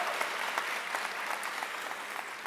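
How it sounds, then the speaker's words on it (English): Moderately distant applause fills an MLK tribute event after a performance, a continuous patter of many hands clapping at even strength with a few sharper individual claps. "Please give them another round of applause"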